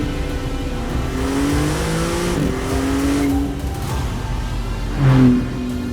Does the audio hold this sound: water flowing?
no